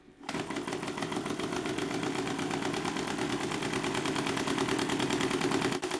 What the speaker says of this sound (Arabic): دلوقتي الموتور بلف بسرعة